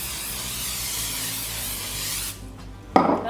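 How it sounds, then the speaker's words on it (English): Cooking spray hissing steadily into a 13 by 9 inch baking pan, a close, continuous spray lasting a couple of seconds before stopping, followed by a brief clatter. "I'm gonna spray it with my cooking spray"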